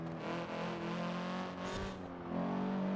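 Audi TTS engine in Forza Horizon 4 heard from the in-car view, a steady droning hum that rises near the end with a brief tire squeal partway through, fairly quiet and with no talking.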